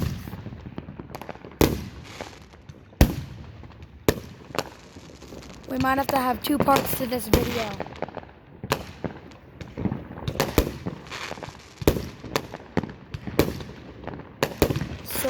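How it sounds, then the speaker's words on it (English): Fireworks set off at an airshow, a rapid string of sharp bangs and crackling bursts, some near and loud, with a dense crackle mid-way and a person talking over them. "that's a lot of fireworks"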